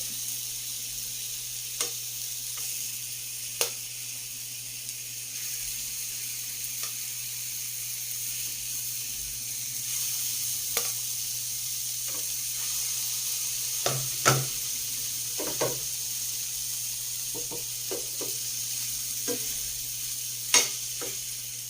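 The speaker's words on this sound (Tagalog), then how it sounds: "Ating hotdog na piniprito." Hotdogs frying in a hot pan (kawali), a continuous steady sizzle with scattered pops and spatters, a few louder crackles midway and one near the end; no one speaks.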